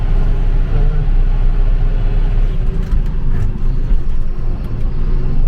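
A John Deere 7530 tractor engine runs with a loud, steady low rumble and a dense mechanical drone that holds without a break throughout.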